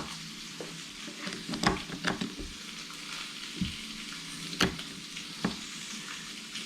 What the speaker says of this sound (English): we're going to stir this one more time